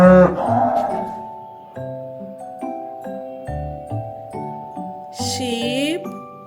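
A farm cow moos once, short and near, over a gentle tinkling children's melody that carries on alone afterward.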